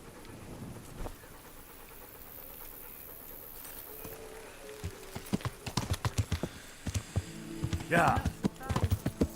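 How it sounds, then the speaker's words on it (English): Hooves clip-clop in the Kingdom Come Deliverance video game, starting as a quick, loud run of steps over background hum and game ambience, with a brief spoken word partway through. "Oh, where's the horse?"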